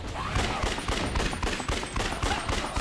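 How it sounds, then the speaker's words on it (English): Rapid, dense gunfire from the video game Yakuza: Dead Souls, a continuous fusillade of overlapping shots at steady loud level with no talking. "Just gotta shoot a few more, we're home free."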